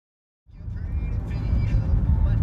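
A car on the road, heard from inside as a steady low rumble that starts abruptly and holds at an even, moderate level.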